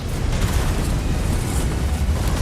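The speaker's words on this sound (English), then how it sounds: "Tank collisions now sound richer and more believable" Heavy, rumbling crash and grinding of colliding tanks in the video game World of Tanks, dense low-end booms that stay loud and continuous throughout, with no voices.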